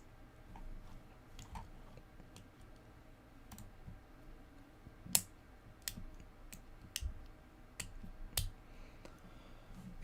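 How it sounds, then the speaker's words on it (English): A pen clicks in sharp, sparse, irregular snaps against a quiet room background, roughly a dozen isolated clicks spaced unevenly, some louder than others. "Sorry for you my pen clicking."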